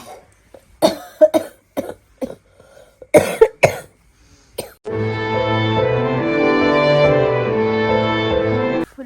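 A person sick with cough, cold and fever gives a series of sharp, close coughs in bursts, followed by a long, sustained crying or whining voice.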